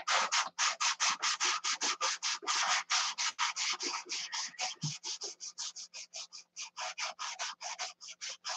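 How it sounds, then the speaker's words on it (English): Hand sanding of a primed wooden project, a steady run of close, loud back-and-forth rasping strokes in a fast even rhythm, each stroke clearly separated by brief pauses, with no talking. "I got to sand some more"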